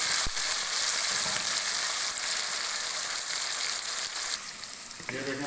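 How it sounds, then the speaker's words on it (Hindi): Beef browning in a karahi for Shinwari-style beef karahi gives a loud, steady, close sizzle that runs the whole time with little change, and a brief stirring scrape comes near the end. "जो गोश्त निकाला है वो इसमें ब्राउन करेंगे"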